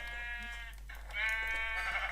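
Sheep in a video game bleat in a few drawn-out, wavering cries, the later ones louder, over a steady low hum.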